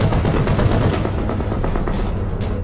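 Dense, rapid gunfire crackles continuously, like a battlefield exchange between Soviet and German troops, harsh and loud with no voices over it.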